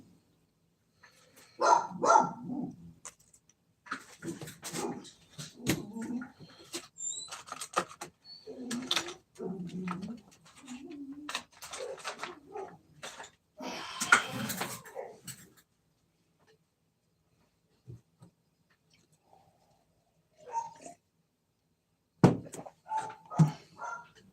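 A dog barks in bursts amid workshop clatter during a wrenching session, sharp irregular barks with pauses and a long quiet stretch, moderately close and fairly faint overall.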